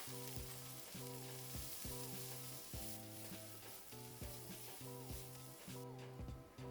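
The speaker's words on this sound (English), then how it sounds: "next you're gonna saute your kimchi and garlic over a medium flame for a couple of minutes" Kimchi and garlic sauté in a pan over a medium flame, giving a steady, close sizzle with rhythmic scraping and stirring strokes roughly every half second.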